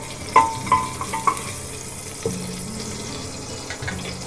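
Green chillies frying in a pressure cooker for kadhi pakoda, a steady sizzle with a few sharp metallic clinks of a spoon against the cooker near the start and later light stirring.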